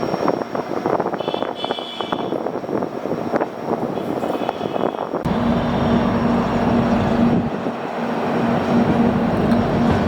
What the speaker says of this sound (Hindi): तो प्लेटफॉर्म नंबर 1 पर योगा एक्सप्रेस पहुंच रही है योग नगरी ऋषिकेश के